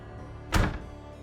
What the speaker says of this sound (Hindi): दरवाजा अपने आप बंद हो गया।